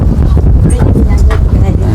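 Wind buffets an outdoor microphone in heavy, continuous low rumbling gusts while a voice talks faintly underneath.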